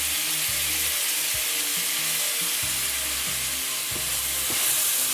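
Chopped tomatoes and salt sizzling as they hit a pan of frying baigan, a loud, steady hiss of oil with occasional stirring scrapes, close and continuous with no talking.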